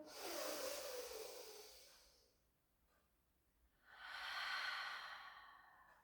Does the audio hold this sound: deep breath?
yes